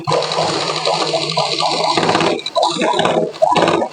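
A sewing machine stitches a sari, running steadily and loud at close range, its motor and needle whirring with a brief pause partway through.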